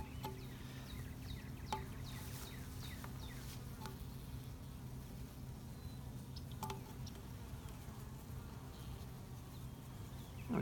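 A steady, low drone of many honey bees buzzing close by while being hived, with occasional faint clicks and taps over the constant hum.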